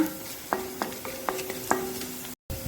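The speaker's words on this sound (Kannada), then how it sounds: "ಇದನ್ನು ಸ್ವಲ್ಪ ಒಳ್ಳೆ ನೀರುಳ್ಳಿ ಸ್ವಲ್ಪ ಬ್ರೌನ್ ಕಲರ್ ಆಗುವವರೆಗೆ ಹುರಿದುಕೊಳ್ಳೋಣ." Onion browning in oil with cardamom, black pepper and cloves crackles softly in a pan, with a few distinct stirring clinks of a spoon against the vessel over a gentle sizzle.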